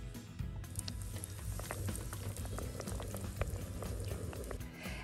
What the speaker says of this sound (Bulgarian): Ако олиото ви е загряло добре, може да слагате нашите мекички да се пържат.